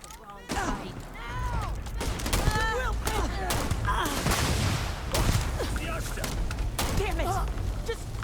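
Rapid gunshots and bursts of automatic fire from the video game Starfield crack through a chaotic firefight, with character voices and shouted dialogue overlapping the shots throughout.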